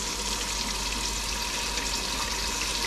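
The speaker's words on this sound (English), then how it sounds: "Add as much water as you can." Tap water pours steadily into a big pot for turkey bone broth, a continuous loud hissing rush with no pauses.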